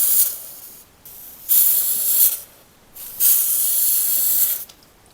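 Butane gas hissing out while a Thermacell cartridge is refilled through an adapter: three loud, steady bursts of close spray-like hiss separated by short quieter gaps.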